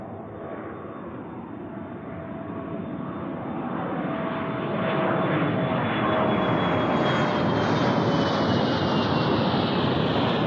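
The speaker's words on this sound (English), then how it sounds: "Some C-130 action" A C-130 military turboprop transport roars steadily and loudly, its engine drone swelling as it draws nearer, with a falling whine sweeping across the sound.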